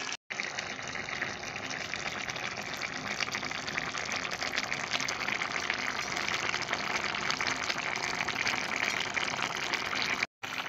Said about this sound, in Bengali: এবার অল্প করে জল দেব।